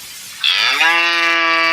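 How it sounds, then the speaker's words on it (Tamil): A frightened cow lets out one loud, drawn-out moo close by, starting after a short quiet moment and holding its strained, rising tone to the end. "மாடு மிரண்டுது"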